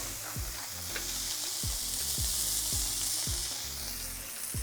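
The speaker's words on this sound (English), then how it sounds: "Sear it for about 1 to 2 minutes" Beef burger patty searing in a hot, ungreased pan with salt and pepper, a steady close sizzle and crackle running throughout, broken by a few soft clicks or scrapes.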